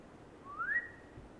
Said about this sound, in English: But he heard a faint whistle.